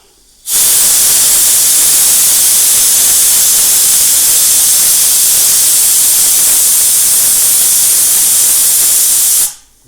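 Steam bursts from a new pressure cooker holding only water and lemon on a gas stove at its second whistle: a loud, steady, rushing hiss that starts abruptly, holds for about nine seconds and cuts off sharply, with no voices.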